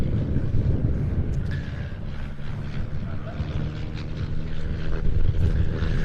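De Havilland Chipmunk aircraft, built at Hatfield in 1950, fly a formation break at an air show, their propeller drone rising and falling through wind noise and distant crowd sound.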